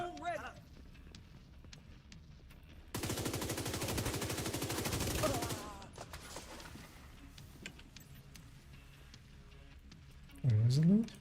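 Video game gunfire as a player is shot, a dense rapid burst of automatic fire for a few seconds, fairly loud against quieter surroundings, with someone speaking around it.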